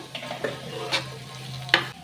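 Onions frying in a pan with potatoes, a steady soft sizzle running throughout, broken by a few sharper scraping stirs up close.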